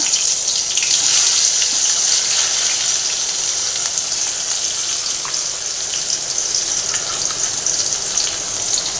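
Onions sizzling and crackling in hot oil in a pan, a steady close frying hiss with scattered pops throughout.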